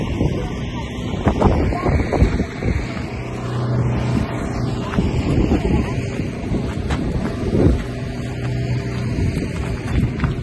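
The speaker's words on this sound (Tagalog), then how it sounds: "Malamig yung hangin." Wind gusting across the microphone in low, rumbling buffets at a high viewpoint in Taif, Saudi Arabia, with a steady hum underneath and faint voices in the distance.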